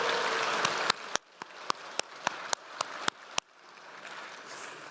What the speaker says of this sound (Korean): 이럴 땐 박수 한번 치셔도 괜찮을 것 같습니다.